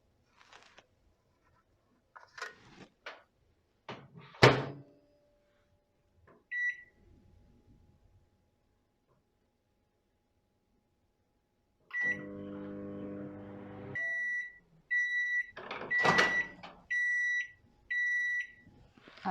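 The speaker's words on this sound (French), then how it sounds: "je vais mettre maintenant mon dessin au micro-ondes, une dizaine de secondes, hein, pas plus, à pleine puissance" A microwave oven runs at full power, heating a paper drawing coated with puffy paint. Quiet handling clatter comes first, then a short, loud electrical hum, followed by a series of sharp beeps.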